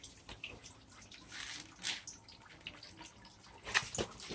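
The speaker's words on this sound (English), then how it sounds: "you probably hear that dripping sound" Coolant drains from a 2001 Subaru Forester, making faint, close dripping and trickling with irregular small splashes and no talking.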